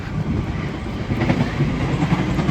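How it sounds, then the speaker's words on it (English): A train pulls out of Broxbourne station in the UK, a loud, steady rumble of rolling wagons with faint rhythmic wheel clatter, heard close and continuous throughout with no talking. "There's a train over there coming out Broxbourne station"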